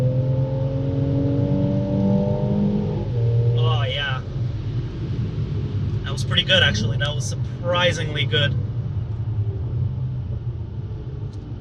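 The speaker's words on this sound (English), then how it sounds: "I love the crackles and the burbles that you get from the exhaust." A Mercedes C43 AMG accelerating hard after a downshift in Sport Plus, engine rumbling loudly up close with sharp exhaust crackles and burbles popping through; someone talks over it.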